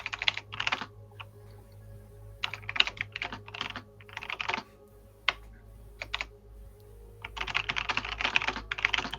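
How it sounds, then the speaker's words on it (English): Fast bursts of typing on a mechanical computer keyboard, crisp clacky keystrokes in uneven flurries with short pauses, close and clear with no talking. "It's my mechanical keyboard."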